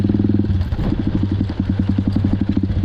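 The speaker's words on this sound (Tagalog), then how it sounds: "Buti pala yung malaking motor ang dala natin." A large motorcycle engine runs close and loud with a steady, rapid pulsing beat, heading down toward a muddy farm path.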